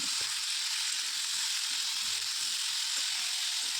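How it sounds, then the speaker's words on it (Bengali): Cauliflower and potato pieces frying in oil in a pan, a dense, even sizzle held steady throughout with faint soft stirring knocks underneath, close and loud. "তো এই যে ভালো করে ভেজে নিচ্ছি নেড়েছিল একদম মানে ব্রাউন ব্রাউন হয়ে যাবে ফুলকপি আর আলুটা"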